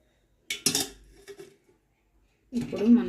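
A pressure cooker is opened and cooked dal is taken out, heard as a few close metallic clinks and scrapes, a pause, then someone speaking.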